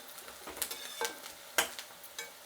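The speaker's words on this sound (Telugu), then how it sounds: "ఇది నూనె కొంచెం ఎక్కువ కదా, డీప్ ఫ్రై చేస్తున్నాం కాబట్టి ఫాస్ట్లో వేగిపోతుంది" Horse gram being deep fried in a generous amount of hot oil, a soft steady sizzle with a few brief stirring clinks and scrapes rising over it.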